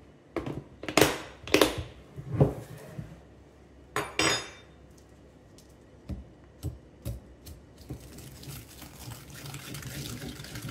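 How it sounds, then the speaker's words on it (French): Three eggs and sugar are worked in a mixing bowl, giving irregular clinks and taps of utensil on bowl. Several strong knocks come early, then lighter scattered ticks with a faint watery, splashy background. "on va battre les œufs avec le sucre. Donc, 3 œufs avec 3 cuillères à soupe de sucre"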